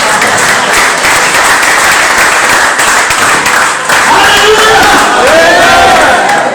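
A large church congregation claps and cheers continuously, a dense wash of applause with raised voices rising over it toward the end.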